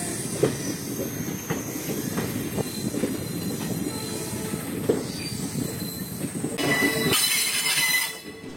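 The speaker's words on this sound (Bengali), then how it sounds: "কামাখ্যা জংশন থেকে সকাল 8:28 ছেড়ে আজকে আমাদের যাত্রাপথের শেষ গন্তব্য গৌহাটি স্টেশনের উদ্দেশ্যে ট্রেন রওনা হলো" The Lachit Express pulls out of Kamakhya Junction, its wheels clicking and rumbling over the rails with a loud, continuous roar and a few squeals, then a brief burst of hissing noise near the end.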